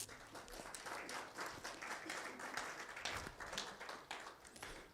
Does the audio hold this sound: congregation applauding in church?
yes